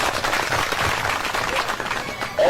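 A crowd at a political rally clapping together, a broad sustained patter of many hands at steady volume, dense and unbroken until it cuts off at the end.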